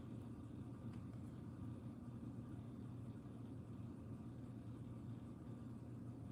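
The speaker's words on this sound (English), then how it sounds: "why is my truck still making this sound?" A faint, steady low truck engine drone idles continuously with a slight uneven rumble, heard alone with no talking; the truck makes an odd noise that persisted after a serpentine belt and oil change.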